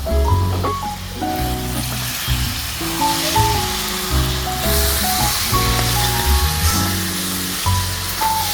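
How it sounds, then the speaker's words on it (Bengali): Onion and potato fry together in oil for an egg curry as they are stirred, giving a continuous sizzle that sits beneath louder melodic background music, with no talking. "পেঁয়াজ আর আলু একসাথে আমরা ভালোভাবে নাড়াচাড়া দিয়ে লাল করে নিব"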